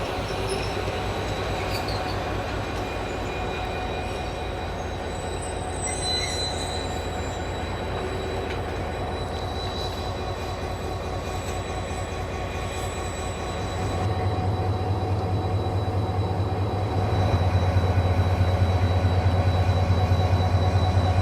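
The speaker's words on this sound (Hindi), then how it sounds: "EMD लोकोमोटिव आप देख रहे हैं दोस्तों," An EMD diesel locomotive of Pakistan Railways rumbles past near Lahore in a long, steady roar, with squealing wheels and a deep engine hum growing louder toward the end.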